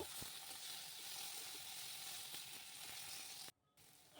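Tomato dropped into a pan with oil and ginger paste, a loud steady sizzle and frying hiss that briefly cuts out near the end before resuming, with no voices present.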